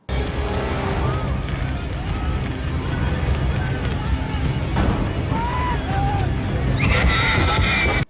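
A horse whinnies in a dramatic television fantasy scene, several sharp rising neighs cutting through a dense bed of crowd noise, running and commotion, with voices talking over parts of it.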